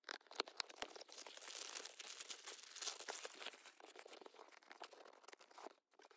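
Plastic packaging from a Right Stuff manga box crinkles and crunches steadily for several seconds, close and fairly quiet, with a few sharp crackles near the start and no voices.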